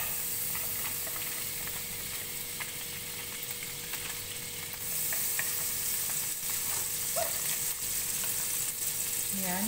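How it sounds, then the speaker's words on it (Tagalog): Garlic sautéing in butter in a pan for a crab dish, a steady close sizzle and hiss with faint stirring clicks, the frying growing a bit louder midway. "So now maglagay tayo ng butter. Igisa natin yung garlic"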